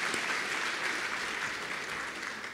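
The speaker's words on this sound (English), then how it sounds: "Shall we give that a round of applause?" An audience at a university's official academic opening ceremony applauds, a dense, even roar of many hands heard from a distance, steady for the whole stretch and without any talking.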